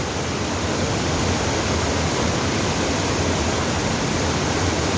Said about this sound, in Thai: อันนี้คือน้ำตก